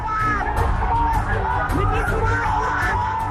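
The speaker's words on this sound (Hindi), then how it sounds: "नारेबाजी" Protesting migrant workers on railway tracks shout slogans in a loud, dense crowd, voices overlapping in continuous yells and whoops close by.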